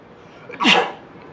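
A voice imitates a single sneeze, a short sharp burst close to the listener with a quiet breathy lead-in and no talk.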